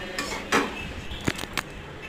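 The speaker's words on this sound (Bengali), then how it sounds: "এখন দেখো আমি সুন্দরভাবে কষাচ্ছি" Spice paste being stirred and fried in a pan for mushroom masala: a few scraping, clinking strokes of a spoon against the metal, moderately close, with a low background sizzle and no talking.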